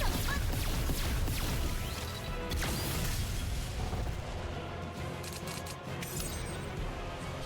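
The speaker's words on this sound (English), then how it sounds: "He is shooting me." Video game gunfire crackles in dense, rapid bursts with heavy booms and metallic clatter, loud and continuous at first, then thinning into scattered shots and impacts over a rumbling background.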